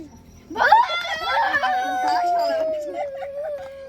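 A chicken lets out a loud, drawn-out squawking call that trails off, heard close by.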